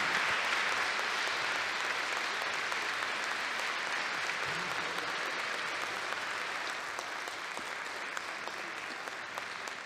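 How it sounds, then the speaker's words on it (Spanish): Audience applause at a tribute ceremony, a steady, sustained wash of clapping from a crowd lasting throughout, with no talking over it. "Les pido que redoblemos un poco más el aplauso para nuestros panelistas"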